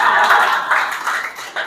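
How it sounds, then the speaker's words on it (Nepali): Congregation clapping at a Nepali church revival service, a dense, loud burst of many hands in quick irregular rhythm, close and continuous for a moment without talk. "ताली बजाइदिनुहोस् न"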